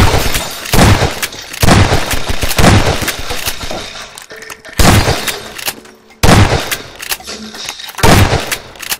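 Gunfire in the video game Garry's Mod, loud repeated bursts of rapid shots in several long volleys separated by brief pauses, close and dominant.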